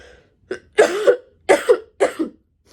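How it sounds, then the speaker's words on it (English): Three harsh coughs in a row, close and loud, with short pauses between them. "I'm going to cough again"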